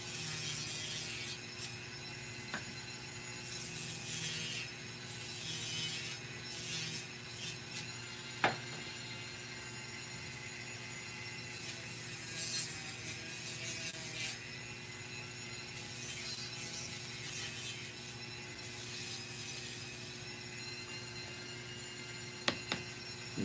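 A Dremel rotary tool cuts into a handmade craft sword shaped like a butterfly demon-slaying blade, giving off a steady, continuous mechanical whine. A few sharp clicks stand out above it, and no one speaks.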